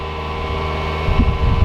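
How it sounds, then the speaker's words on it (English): An overheating car engine idles with a steady, loud droning hum, then is revved in the last half-second as a deeper, rougher rumble swells up close. "I'm revving the engine to make it more hotter"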